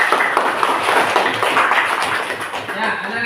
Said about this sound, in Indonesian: Tepuk tangan untuk Lintang